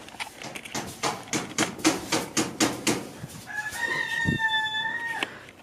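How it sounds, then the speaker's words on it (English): Several roosters crow in a rural yard, a quick run of rhythmic clucking calls followed by a long, drawn-out cock-a-doodle-doo, loud and fairly close, with no voices. "There's the roosters"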